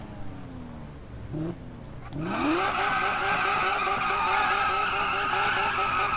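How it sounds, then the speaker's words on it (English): Car doing tire burnouts in Need for Speed 2015, the engine revving up before a loud, sustained tire squeal with a screeching whine that holds steady and close to the end. "Let me real quick go ahead and do some burnouts here"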